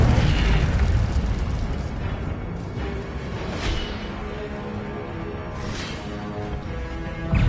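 Fire spell blasts in Hogwarts Legacy combat, roaring bursts of flame with booming low rumble, loud and dense, several surges over a continuous crackling wash.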